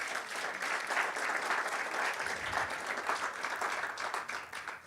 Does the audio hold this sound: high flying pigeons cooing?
no